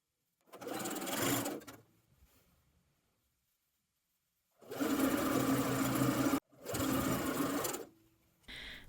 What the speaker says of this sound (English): I line up the other side and sew it starting from the hem